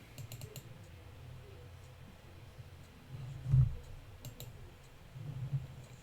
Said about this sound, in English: can you see me typing here?